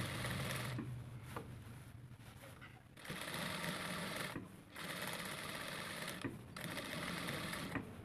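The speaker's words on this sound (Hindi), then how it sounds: "बाकी साइड में हम इसके सिलाई लगा देंगे" A sewing machine runs close up while the remaining side seam of a shirt is stitched, coming in several sustained whirring runs broken by short pauses.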